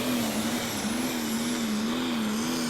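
A Prostock pulling tractor named Baby Bear, from the Bear Essentials team of Shrewsbury, England, runs in the Eurocup class at Brande, Denmark, its engine a loud, steady, sustained drone that wavers slightly in pitch throughout.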